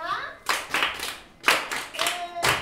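Children in a classroom clap in short, sharp bursts of rhythmic hand claps. Several separate rounds follow one another closely, and a brief voice is heard at the start.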